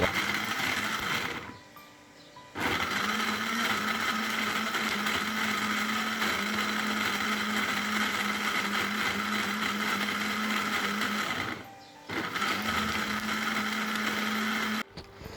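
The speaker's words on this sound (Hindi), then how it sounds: "और अब इसको हम ग्राइंड करने लगे हैं और इसको अच्छी तरह ग्राइंड कर लेना।" Electric blender grinding coconut drink ingredients, a steady loud whirring hum that runs with two short pauses where the motor stops and restarts.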